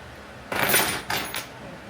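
Keys jangling as they are pulled from a shoulder bag or purse, two short bright metallic rattles close up, the first longer and louder, then a quieter shake.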